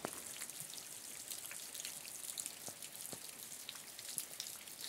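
Early morning rain in the Agreste of Pernambuco patters softly and continuously, with scattered individual drops ticking close by against a faint, steady wash.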